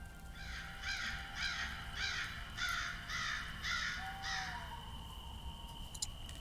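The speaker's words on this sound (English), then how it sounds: "I see more of those crows." Crows caw in a steady run of about seven harsh, evenly spaced calls, played as a sound effect during a tabletop game session, fairly faint and alone with no talk.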